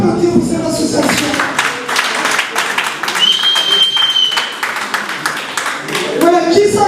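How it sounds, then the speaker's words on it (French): Audience clapping at an event honouring a disability association, a loud continuous patter of many hands with talk and crowd noise at the start and end. "Est-ce qu'on peut applaudir pour cette association?"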